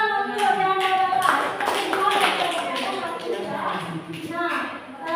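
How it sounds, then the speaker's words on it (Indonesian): Students clap in a classroom lesson, a short burst of scattered hand claps mixed with voices talking over it. "Tepuk tangan untuk yang ada."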